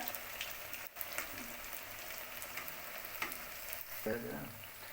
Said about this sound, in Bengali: লাল লাল করে ভাজাটা হবে উল্টে উল্টে ভেজে নিতে হবে